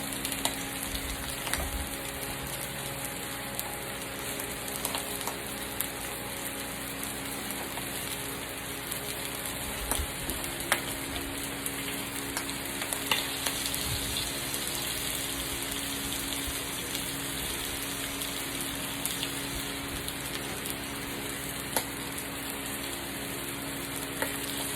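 Salmon sizzles and fries in a hot pan, a steady, even crackle that goes on for the whole stretch, close and alone with no voices.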